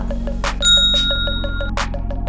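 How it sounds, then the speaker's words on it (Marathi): A bell rings with a bright, sustained metallic tone over a quick, steady series of soft ticks; no voices. "ही घंटी वाजवा."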